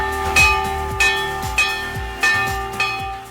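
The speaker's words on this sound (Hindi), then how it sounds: "एनएसई के एमडी आशीष कुमार चौहान ने एनडीटीवी के सीईओ और editor in chief Rahul Kanwal के साथ घंटी बजाई" A ceremonial bell rings at a National Stock Exchange (NSE) Diwali event, five loud, evenly spaced strikes about two-thirds of a second apart, each ringing on with a sustained metallic tone and no voices.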